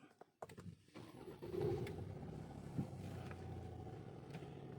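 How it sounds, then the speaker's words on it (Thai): A 2022 Ford Next-Gen pickup truck engine cranks and catches, then settles into a low, steady idle, heard faintly from inside. "เริ่มต้นนะครับสตาร์ทเครื่องยนต์เลยครับ"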